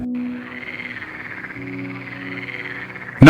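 A cave squeaker frog calls in a steady, continuous chirping trill that carries on for a few seconds at a constant level and ends in a brief loud thump.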